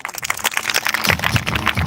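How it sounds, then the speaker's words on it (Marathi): Loud, dense clapping from an audience celebrating a student receiving a 301-rupee second prize at a Navodaya academy event in Jalna, continuous and close without a break. "टाळ्या वाजा जोरात"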